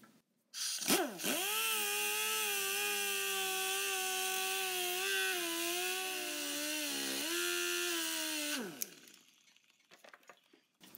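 A DA sander polishing the edges of a steel mounting tab for a drag race chassis anti-roll bar, a steady loud whining drone that spins up, holds for about seven seconds with slight pitch dips under load, then winds down.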